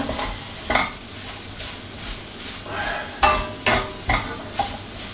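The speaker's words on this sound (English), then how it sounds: "you just whack them in the pan and then carry on stirring for a little while" Vegan mince and courgettes cut into long quarters sizzle in a pan and are stirred with a utensil, giving a steady frying hiss broken by several sharp scrapes and knocks against the pan.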